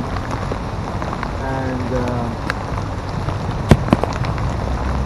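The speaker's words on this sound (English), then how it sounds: "it's pouring down with rain" Heavy rain pouring down on a London street, a steady broadband hiss of drops on hard surfaces throughout, with a person speaking briefly over it and a couple of sharp knocks near the end.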